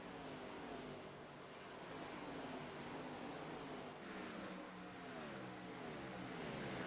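Race car circling turns 3 and 4 during an All-American Cup Series race in Nashville, heard as a steady, continuous engine drone with shifting harmonic pitch as it rounds the corners, fairly distant and without any talk.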